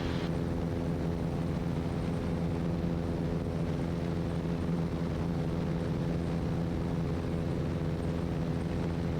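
Experimental light propeller airplane departing runway 31 at Blue Ridge, engine droning steadily and loudly from close by throughout, with no talk over it.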